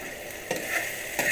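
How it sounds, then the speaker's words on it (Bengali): Poppy seed paste stirred in a pan while frying for a chicken dish with coconut, a low steady sizzle with two brief scraping swishes of the spoon, fairly close, no voices. "পোস্ত বাটা নাড়াচাড়া করছি"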